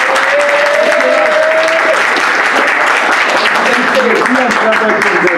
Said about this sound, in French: Applaudissez pour cela.